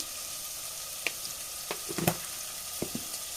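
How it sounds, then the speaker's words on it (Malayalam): A green peas curry mixture is sautéed in a pan, giving a steady close sizzle of frying broken by a few sharp scrapes and stirring knocks, with no voices. "നല്ല പോലെ ഒന്ന് വഴറ്റിയെടുക്കുക"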